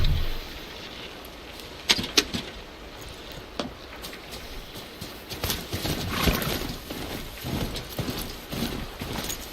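Horse hooves clip-clop along a path in Horizon Zero Dawn, a steady run of close, moderately loud hoofbeats with a few sharper thuds and a brief whinny-like tone over a low ambient bed.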